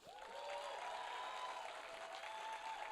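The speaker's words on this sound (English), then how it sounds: "I'd also love to keep that applause going" Applause from the crowd at a live Fall Guy film event, rising quickly into a dense, sustained clapping with a faint tonal hum running underneath, no talk over it.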